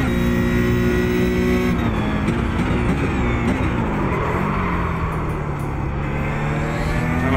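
Porsche 911 GT3 (992) flat-six engine lapping the Hungaroring in the iRacing simulator, a loud, steady engine note running the whole time with gear changes and shifting revs as the car accelerates and brakes, no talking.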